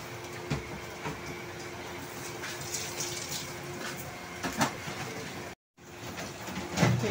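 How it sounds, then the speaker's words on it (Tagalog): Mineral water pours steadily into a water container at a refill station, a continuous rushing hiss with a few brief clunks, holding even throughout apart from a short gap near the end. "Tingnan ko, pinupunuan na yung sakin. Yung water container ko."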